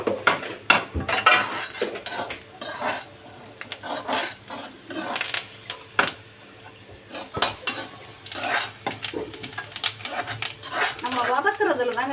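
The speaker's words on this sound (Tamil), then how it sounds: "நல்லா வதக்கிடுங்க" Vegetables sautéing in a pan, with repeated metallic scraping and clinking of a spoon and a light sizzle underneath, close up, and a voice talking at points.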